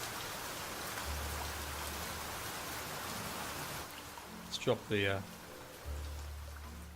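Dense, steady rain in the survival game Niche hisses continuously throughout, while someone speaks briefly near the end over it and a low music tone hums in the background.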